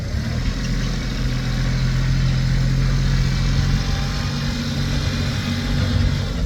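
A Kubota L3408DT tractor with a three-cylinder engine runs steadily, producing a loud, close, even engine hum with a low droning tone throughout and no voices.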